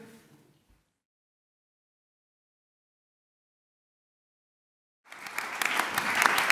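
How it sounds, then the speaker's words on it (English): Half-hearted audience applause at a Sheffield Doc/Fest session, with a short fading sound at the start, then several seconds of silence before scattered clapping rises and builds toward the end. "That's an unbelievably lame round of applause"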